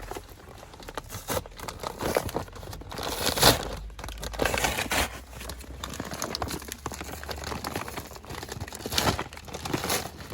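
A plastic liner bag inside a pigeon feed sack crinkles and rustles up close in irregular bursts, with louder crunches now and then and no talking.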